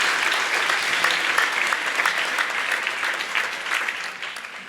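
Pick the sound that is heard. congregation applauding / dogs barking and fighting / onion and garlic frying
congregation applauding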